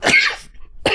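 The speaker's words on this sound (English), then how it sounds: "Right at the start of the video, just sneezing." Two sharp bursts from a person, likely a sneeze, a loud explosive one at the start then a brief gap and a second short burst, heard close with no talk.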